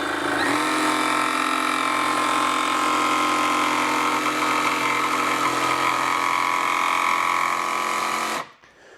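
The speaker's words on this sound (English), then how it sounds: "once I push on it, you'll hear it ramp up" A Ryobi barrel grip jigsaw in auto speed mode, dust blower off, winds up to a loud steady whine as it cuts, runs close and continuous for several seconds, then stops abruptly.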